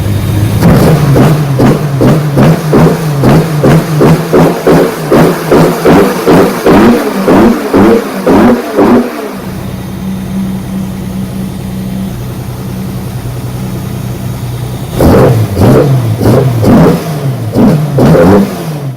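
A 265 Hemi six in a Charger fitted with Jenvey triple individual throttle bodies and Megasquirt, revved hard in a quick rhythmic series of blips for about nine seconds, settling to a steady idle, then blipped again near the end.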